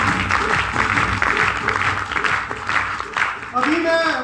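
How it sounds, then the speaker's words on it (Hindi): Enthusiastic audience applause at a business club gathering, a loud, steady clapping crowd with voices and shouts mixed in, ending with a brief musical tone. "फिर से जोरदार तालियां सर एक बार"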